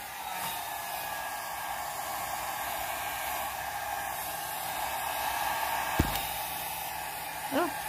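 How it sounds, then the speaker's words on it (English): A hair dryer blows steadily at close range over an alcohol ink painting, a constant loud whooshing hiss that runs through the whole stretch with only small shifts in airflow. "I'll probably still go ahead and take the dryer and just get this dry"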